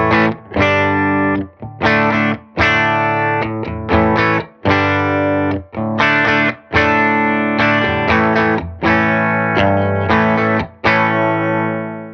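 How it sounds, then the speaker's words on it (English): Electric guitar chords strummed through a clean Silk Tone amp in short bursts with brief gaps, bright and ringing with a slight edge, loud and close with no voices. "Silk Tone amp, it sounds like this."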